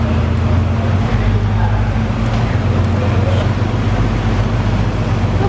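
A Nissan Skyline R33 engine holding a steady, loud drone on a dyno, a continuous low mechanical roar with no clear rise in pitch.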